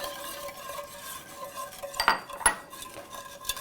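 A utensil clinks and scrapes against a bowl as ingredients are whisked for pumpkin lasagna rollups, with soft stirring followed by a few sharper metallic taps near the end; no talking.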